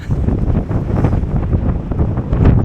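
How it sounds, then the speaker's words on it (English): Bitter wind at a frosty winter campsite in Northumberland roars and buffets loudly and steadily against the microphone, with no talking. "That wind is bitter."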